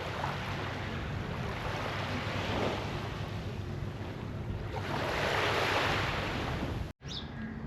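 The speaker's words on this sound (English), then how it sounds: "I'm loving the sea here." Sea waves wash at Naama Bay, Sharm El Sheikh, a continuous surging rush mixed with gusty wind buffeting the microphone, swelling louder near the end before a brief dropout.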